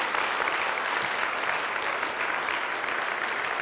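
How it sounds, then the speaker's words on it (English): Church congregation applauding in celebration during a sermon, a steady, dense wash of clapping filling the whole moment at even loudness, with no speech over it. "join in celebrating for just a moment with kind of an applause of excitement"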